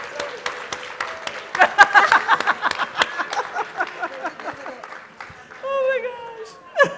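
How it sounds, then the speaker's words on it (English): Applause from a dinner audience at an evening event with a jazz theme, a burst of clapping that rises and then tapers into scattered claps, with a voice speaking over it near the end. "Can we give an applause for Toni and Jocelyn one more time?"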